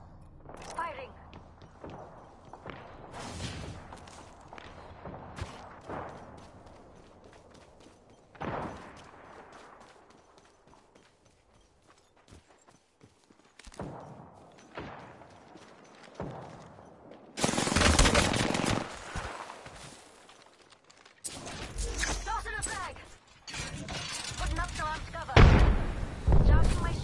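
Automatic weapon fire from Rampart in Apex Legends rattles through a ranked match, with scattered shots early and heavier, louder bursts toward the end, partly mixed with game sounds and some talk.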